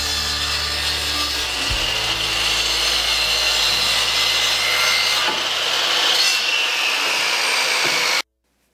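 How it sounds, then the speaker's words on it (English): A miter saw cuts through wooden top panels for table saw extension tables, a loud, sustained whining rasp of blade in wood that holds steady for about eight seconds and then cuts off sharply. "I then use my miter saw to cut the two left top panels to their length."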